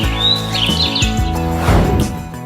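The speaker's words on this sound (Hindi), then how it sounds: "आपके साथ होंगी कुछ मीठी आवाज में चहकने वाली छोटी चिड़िया" High, sweet chirps and tweets from small birds repeat over a soft music bed, close and bright.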